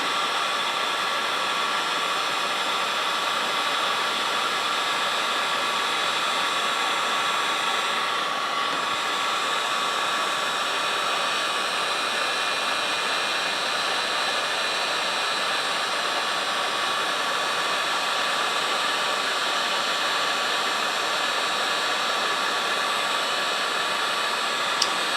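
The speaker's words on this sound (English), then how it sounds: "I'm going to do all my warming here because I don't want to throw this heat gun down by an open fuel line." A heat gun blows steadily and unbroken at close range, a loud even hiss of air warming a hose on a 1982 Fiat 2000 FI. No other sounds break through.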